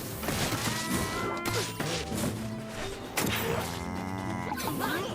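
A video game cow in Town of Zoz moos amid clattering smash and thud sound effects, with a drawn-out lowing call near the end of the busy game audio.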